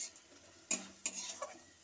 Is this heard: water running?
no